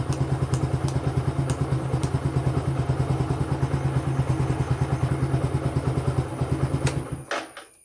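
A motorcycle with automatic headlight-on engine idles close by, a steady, even thumping pulse running for several seconds before cutting off and dropping to quiet at the end.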